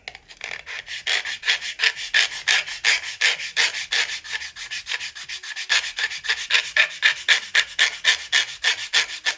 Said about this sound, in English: I'm sanding off this front side here.